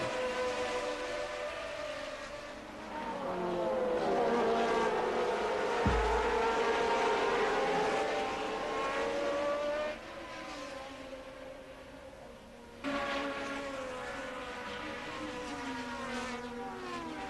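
1981 Formula 1 turbo race cars scream past at the start of a race, loud sustained engine whine sweeping up and down in pitch, with a brief thump and a drop before another car passes.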